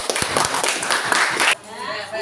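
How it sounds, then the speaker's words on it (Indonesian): A classroom of students applauds after a group presentation, a brief burst of close, dense clapping that stops abruptly, with a voice speaking afterward. "Oke, tepuk tangan."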